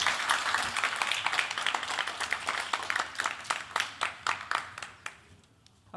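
An audience at an animation conference paper session applauds a presenter, with dense clapping that thins into scattered individual claps before dying away.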